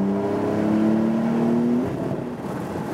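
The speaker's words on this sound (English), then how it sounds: "There we can really hammer the throttle and also hear something more of the sound." A 991.2 facelift Porsche 911 Carrera 4S Cabriolet, top open on the Autobahn, accelerates hard under full throttle. The engine note climbs steadily for a couple of seconds, loud and close, then eases into a rougher steady drone.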